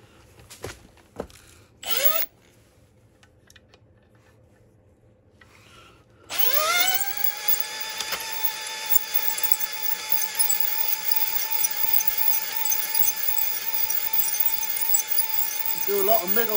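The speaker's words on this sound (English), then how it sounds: "So I need to carry on with that now when I do the final hone." Honing stones working engine block cylinder bores during a final hone: a few brief knocks and a short burst early, then a power tool starts up and holds a steady whining, grinding drone to the end.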